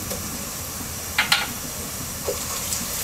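Ginger-garlic paste frying with browned onion in a pan: a steady hiss of hot oil with a couple of brief spattering pops partway through.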